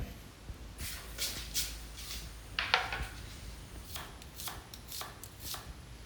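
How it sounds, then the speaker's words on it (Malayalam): A knife chops onions, tomatoes, green chillies, garlic and ginger on a board, with crisp, close taps coming in short irregular bursts over a low, quiet background. No one speaks. "ഇനി ഓരോന്ന് നുറുക്കാം"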